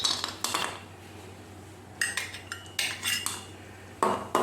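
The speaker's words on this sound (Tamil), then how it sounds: "இரண்டாவதாக நெய் ஊற்றி வறுக்க வேண்டும்" A spoon scrapes and clinks in a pan as semolina is roasted in ghee for kesari, sparse metallic strokes coming in short clusters with quiet gaps between, close and fairly soft, with no talking.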